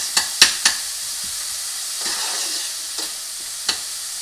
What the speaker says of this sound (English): So you cook them until they're transparent.